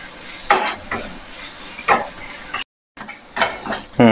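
A spatula scrapes and stirs masala spices dry-roasting in a pan for Kerala kadala curry. Several distinct strokes land in an uneven rhythm over a soft sizzle, with a brief dead-silent gap midway.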